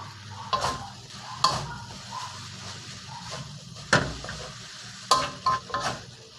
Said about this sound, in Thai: ผัดให้แห้งนะครับ ให้ก้นกระทะไหม้หน่อยๆนะครับ